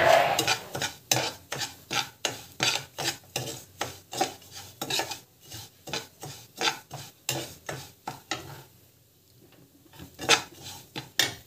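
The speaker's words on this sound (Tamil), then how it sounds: "ஸோ வந்து பார்த்திங்கன்னா இது வந்து வறுத்துக்கோங்க. நல்லா வந்து ஃப்ரை ஆகும்." Dry rava (semolina) being roasted and stirred in a pan for temple-style kesari, with a spoon scraping the pan in quick, rhythmic strokes through most of the stretch, a short pause, then more strokes.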